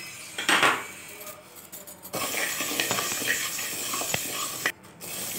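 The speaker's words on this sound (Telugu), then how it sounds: "లో ఫ్లేమ్లో పెట్టుకుని వేయించుకోండి" Toor dal and fenugreek seeds dry-roast in a pan over a low flame, making a faint rustling hiss broken by scattered utensil scrapes and clinks, with no talking.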